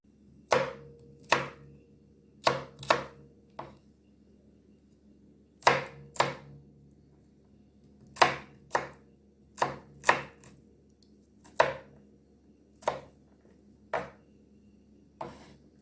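Garlic being chopped with a knife on a board: sharp, distinct knock-like chops in short bursts, some doubled, spread irregularly over about sixteen seconds, close and clear against a low steady hum.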